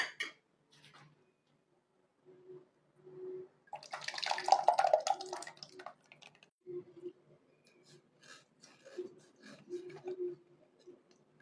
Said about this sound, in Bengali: কোনো রকম লাম্পস যেন না থাকে, সেজন্য আমি দুধটাকে ছেঁকে নেব।